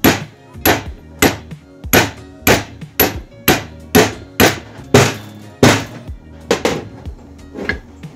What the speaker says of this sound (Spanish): Vamos a sujetarlo, el retén viejo, y vamos a dar pequeños golpes.